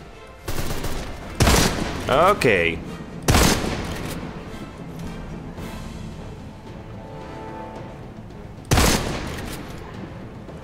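Gunfire in the video game Deadfall Adventures, including a sniper rifle: several sharp, loud single shots spaced apart, with someone speaking between them.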